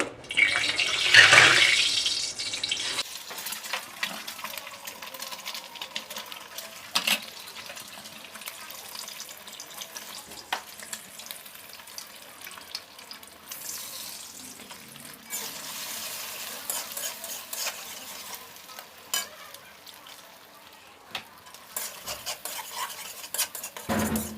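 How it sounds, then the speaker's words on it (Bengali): Eggs drop into hot white oil for fried rice, giving a sudden loud hiss at first that settles into a soft, steady crackle with light clinks of utensils nearby. "তো তেলটা গরম হয়ে গেছে। এবার আমি ডিমগুলোকে ভেজে নেব।"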